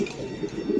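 A single male racing pigeon gives a low, soft coo close by, a short murmuring call that rises slightly at the end, with no voices.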